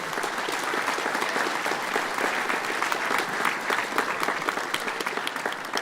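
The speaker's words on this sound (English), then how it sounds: "can I have one last big round of applause for all of our presenters today?" A large expo audience claps loudly for the presenters at a flight simulation show, with sustained, dense applause at an even level from start to finish.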